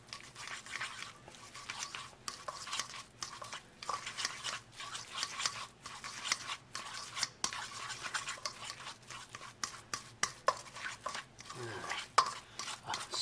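Deviled egg filling with peperoncino being stirred in a bowl, a quiet, uneven run of soft scraping and squishing strokes repeating close by for several seconds.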